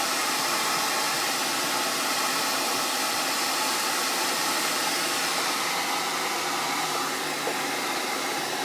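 Hair dryer blowing steadily while drying hair at the roots, a loud, constant whooshing roar up close that holds unbroken throughout.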